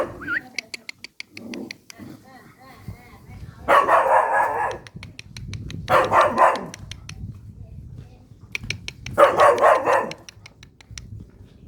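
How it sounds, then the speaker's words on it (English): A couple of dogs in a Bangkok soi beside a small klong bark in repeated short bursts, close and fairly loud, with quieter yips in between. Faint talk and street noise sit underneath. "There's a couple of dogs there,"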